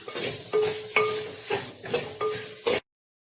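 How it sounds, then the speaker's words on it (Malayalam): Tomatoes sautéing in spice masala for a jackfruit curry, a soft steady sizzle broken by several scraping stirs of a spoon against the pan, close and alone, ending abruptly. "ഇനി ഇത് നല്ലോണം ഒന്ന് വഴറ്റിയെടുക്കണം."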